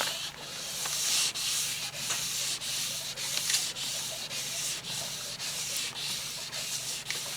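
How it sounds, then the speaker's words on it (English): Sandpaper of 1000 grit is rubbed wet over the clear coat of a sun-damaged car panel in steady back-and-forth strokes, a close rhythmic hissing scrape with short breaks between passes and no talk. "Now I'm switching over to 1000 grit, still wet sanding."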